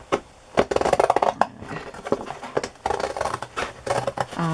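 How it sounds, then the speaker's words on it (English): Scissors snip and trim flaps off a paper file folder up close, with a run of sharp, irregular cuts and papery rustles between them. "Just open up the seam and start trimming off flaps that I don't need."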